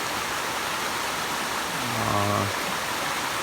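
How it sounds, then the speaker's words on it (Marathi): A small jungle waterfall in Chiveli, Konkan, rushes as a steady broadband wash of falling water, with a brief tonal hum rising in the middle. "इथे थोडासा धबधबा तुम्हाला दिसेल"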